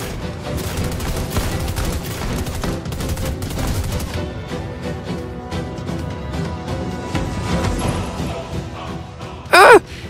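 Dense, continuous volleys of gunfire from the Fortnite video game roll on loudly for several seconds, a dull blast landing near the end, with no clear speech over it.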